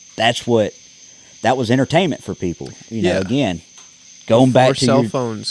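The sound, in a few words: crickets chirping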